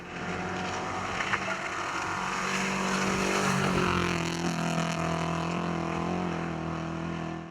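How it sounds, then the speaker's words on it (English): Silver rally car engine on a special stage (SS6), a sustained loud motor note with steady harmonic drone, swelling slightly mid-clip as it passes close, with no voices. "Stage side in SS6, the engine note of the silver car tells the tale."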